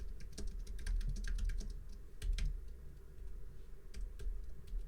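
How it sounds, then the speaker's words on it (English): Quick bursts of typing on a computer keyboard, irregular clusters of close, crisp key clicks with short pauses between, fairly quiet against a low background hum. "Having trouble typing."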